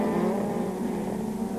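A Star Mazda race car with a Renaissance engine accelerates hard at Mid Ohio, giving a loud, sustained engine roar over the whole short stretch with no talking.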